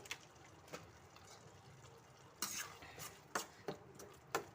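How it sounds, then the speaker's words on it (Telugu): A spoon stirs tomato egg curry with chilli powder and coriander powder in a pan, giving soft scraping and a few sharper metallic knocks against the pan, the louder ones bunched in the second half. "ఇలా బాగా కలుపుకుంటూ మగ్గించుకోవాలండి కర్రీని"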